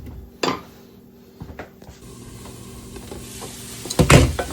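Onions sizzle and simmer in a pan, a steady close frying hiss broken by scraping and clattering as the pan is stirred, with a louder burst of stirring near the end.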